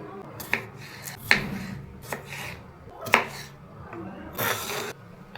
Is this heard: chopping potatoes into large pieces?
yes